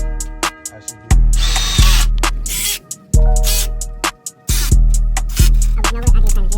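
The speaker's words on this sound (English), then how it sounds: "I just trying to drill down." A power drill whirs in short repeated bursts, revving up and cutting off again and again, loud and close with no talking, during work on a lifted Chevy's rear end pan.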